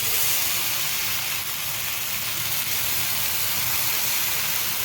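Beetroot uttapam batter sizzling on a hot oiled tawa, a loud, continuous hiss that holds steady from start to finish.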